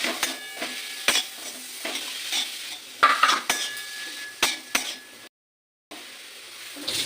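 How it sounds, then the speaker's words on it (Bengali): Grated carrots fry in ghee in a pan with a soft, steady sizzle, broken by repeated scraping and clinking stirs of a spoon against the pan, then a brief drop to silence near the end. "এই গাজরটা আমি একটু ভাজা ভাজা করে দেবো"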